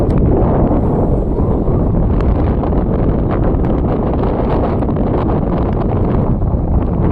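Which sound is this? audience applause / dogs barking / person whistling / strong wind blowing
strong wind blowing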